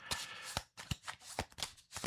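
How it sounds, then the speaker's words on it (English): A deck of event cards for a board game riffled and shuffled in several quick, soft bursts of papery flutter, close and quiet with no talk. "let me shuffle this terrible event deck"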